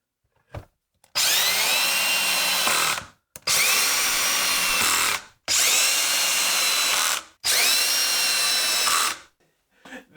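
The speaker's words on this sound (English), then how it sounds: "Just make sure that nothing's gonna move around while we drive the screws in" A power drill whirs in four separate bursts of about two seconds each, driving screws into wood for a blanket ladder, with short silent pauses between runs.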